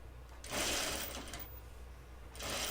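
Sewing machine stitching a French seam set-in sleeve, a close, steady whirring hum with rapid needle chatter that surges, eases, then picks up again, with no talk.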